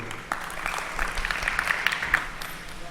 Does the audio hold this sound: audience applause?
yes